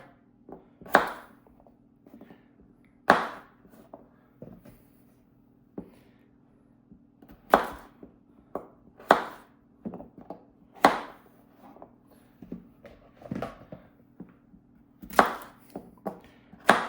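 A Swisstech knife with an AUS8 steel blade chops red and gold potatoes on a board, giving sharp, distinct cuts at an irregular pace, about eight loud strikes among softer taps, close by over a low steady hum.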